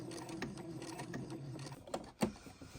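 Home sewing machine stitching steadily around the edge of a fabric bib, a soft continuous mechanical whir with faint clicking, quiet and close, ending in a couple of sharper taps.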